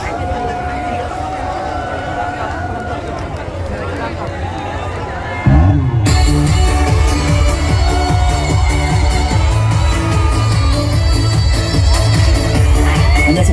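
A crowd at a university culture festival concert in Sinchon, Seoul, cheers and applauds a singer's performance. The noise jumps abruptly midway into a loud, dense, sustained roar.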